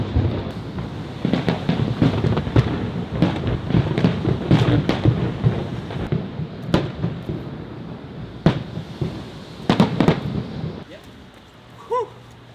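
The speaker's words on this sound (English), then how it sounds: "And there's the fireworks." Lunar New Year fireworks burst over the harbour in a rapid run of sharp booms and crackles, some echoing distantly, with a steady rush of wind on the microphone, until the barrage fades near the end.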